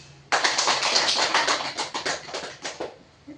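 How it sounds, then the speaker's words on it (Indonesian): A small group of students claps together during a school group guidance session, a dense, close burst of many hands that starts abruptly, holds steady for nearly three seconds, then thins out into a few scattered claps. "Benar, berikan tepuk tangan."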